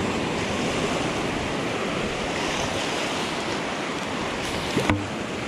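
Calm ocean surf washing steadily onto a beach, a soft continuous wash of small waves with light wind noise and no talking.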